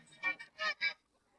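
A goose gives a short series of four raspy, strained honks in quick succession, fairly close, followed by quiet.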